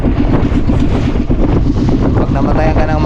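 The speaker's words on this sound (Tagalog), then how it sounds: "Malakas na uli ang hangin, oh." Strong wind roars and buffets the microphone at sea aboard a small engine-powered boat, with rushing water and a voice partly audible beneath the steady, loud gusting.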